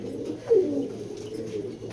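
Pigeons coo at a loft on a Bangladeshi breeding farm, a soft low burbling call swelling near the start and then trailing on steadily, close by and with no talk over it.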